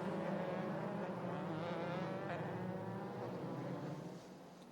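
An FIA F3 European Championship race car (2013) runs wide through a hairpin, its engine a sustained, moderately distant whine with harmonic tones that fade slightly toward the end.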